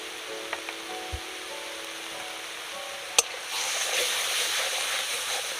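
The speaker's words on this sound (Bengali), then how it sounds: "মশলাটা ভালো করে ভেজে নেব" Turmeric, coriander and Kashmiri chili powder frying in a pan: a few light taps and a sharp clink, then a steady close sizzling hiss rises and carries on to the end.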